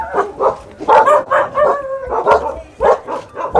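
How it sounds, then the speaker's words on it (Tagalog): Several dogs guard a rural home in Borongan, barking again and again in an uneven volley of loud, close barks mixed with yips and a whimper. "laging madaming aso"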